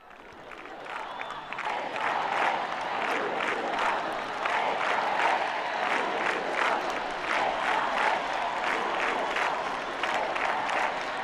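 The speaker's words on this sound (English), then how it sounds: "Our Holy Father acknowledging the applause" A university student audience in Lisbon applauds the Pope with sustained, rhythmic clapping and crowd noise that swells after the first second and stays full and steady.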